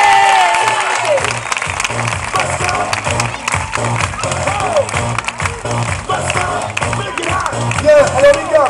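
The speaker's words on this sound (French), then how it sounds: "Les applaudissements du public." Spectators at an outdoor bull-calf game show clap and cheer loudly with occasional whoops. The applause is broad and crowd-wide, with music and talk running underneath.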